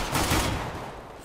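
Dense gunfire in the video game CS GO, a loud continuous burst of shots filling the whole moment with no talk.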